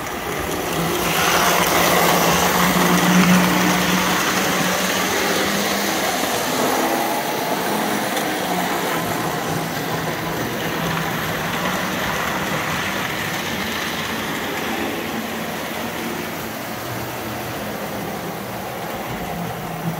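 Lionel postwar diesel locomotive model heading a 1953 freight set, its twin motors with magne-traction giving a steady low mechanical growl and rail rumble with faint clatter, continuous and close for the whole stretch.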